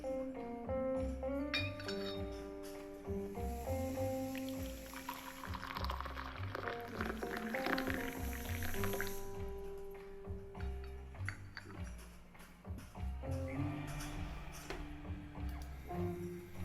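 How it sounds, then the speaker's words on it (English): A café scene with coffee being poured into cups and cups clinking, mixed under a steady melodic music bed with sustained tonal notes throughout. "and pouring of coffee."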